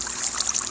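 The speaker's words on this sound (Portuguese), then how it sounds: "você coloca o balde d'água aqui" Water from a bucket placed in Minecraft flows out in a steady, bright trickling stream, close and fairly loud, with no other sound over it.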